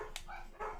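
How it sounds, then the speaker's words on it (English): Dogs bark from some distance indoors, two or three short muffled barks that stay faint against a quiet room background. "The dogs are gonna be barking for like 5 minutes."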